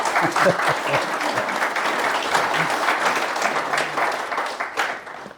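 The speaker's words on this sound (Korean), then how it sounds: "박수 한번 쳐주시기 바랍니다" Audience applause fills a university alumni forum lecture hall after a special talk, a steady dense clapping that runs for several seconds, with a few voices mixed in faintly underneath.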